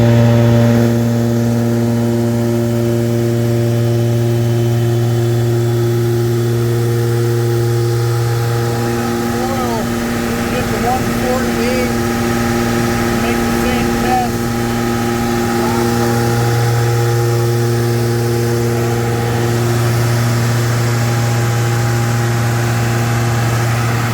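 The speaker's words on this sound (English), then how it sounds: "So we'll make 2 more dyno pulls and see what happens." A VR6 engine runs steadily on a dyno during back-to-back intake manifold testing, a loud constant droning hum with strong low harmonics and a slight shift midway, heard alone without talk.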